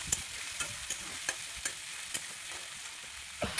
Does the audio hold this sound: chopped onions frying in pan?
yes